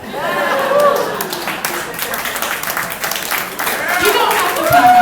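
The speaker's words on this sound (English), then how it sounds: "You don't have to clap everyone." Wedding reception guests break into steady applause during a maid of honor toast, a full roomful of clapping that swells at the start and again near the end, mixed with laughter and voices.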